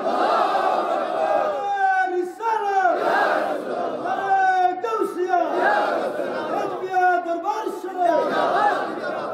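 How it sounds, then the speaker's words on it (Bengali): At a religious gathering, a crowd chants slogans in unison, with repeated rising shouted phrases answering one another in steady waves, loud and full, with no pause between calls. "হাত তুলেন, স্লোগান লাগা"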